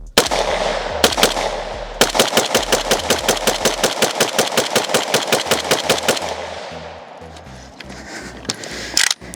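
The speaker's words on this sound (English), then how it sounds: "since this is a shovel AK, I think it's only right that we shoot it with the shovel." Rapid bursts of automatic gunfire from an AK rifle fitted with a plastic shovel grip, loud and close, with sustained rattling strings of shots broken by short pauses, and single shots trailing off at the end.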